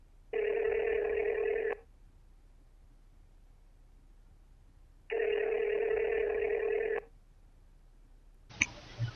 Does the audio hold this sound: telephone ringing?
yes